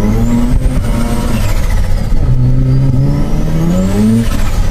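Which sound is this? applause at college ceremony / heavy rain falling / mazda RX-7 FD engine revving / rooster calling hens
mazda RX-7 FD engine revving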